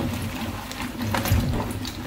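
Mushrooms being rinsed by hand in a basin of water, a steady close sloshing and splashing that continues throughout with no talk.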